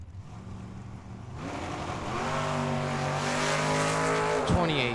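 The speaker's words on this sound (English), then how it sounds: "And that brings up Beto Dominguez. Going to be taking a solo run here in the Lightning McQueen car." A drag racing car roars off on a solo pass at Tucson Dragway, quiet at first then a loud surge of engine with rising gear-change pitch sweeps and a brief sharp burst near the end.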